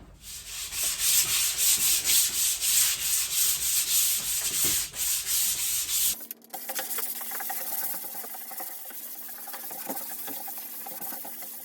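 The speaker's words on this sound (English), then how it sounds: "So that initial bit of sanding, I can already tell that the walls are coming up a fair bit better" Bedroom walls being sanded down by hand, rhythmic rasping strokes repeating loudly for about six seconds, then a quieter, thinner scratching texture.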